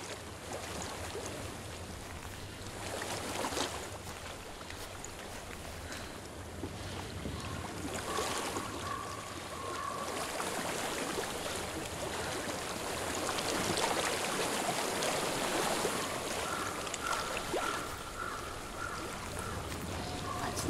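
Stream flowing in Hellblade: Senua's Sacrifice, a soft, continuous wash of running water with faint gentle swells, heard quietly at a distance with no voices over it.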